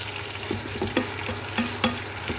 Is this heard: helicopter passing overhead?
no